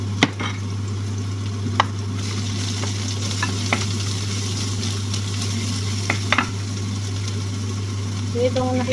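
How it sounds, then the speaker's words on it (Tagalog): Onions sauté in a pan for tortang ampalaya, a steady close sizzle with scraping stirring strokes and occasional spoon clicks over a constant low hum, while a voice talks intermittently. "binigisa natin ang sibuyas"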